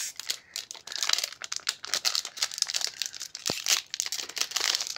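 Crinkly plastic wrapper of a Sportzoo Sport Elite hockey card pack being torn and crumpled open, close-up rustling and crackling in dense bursts throughout.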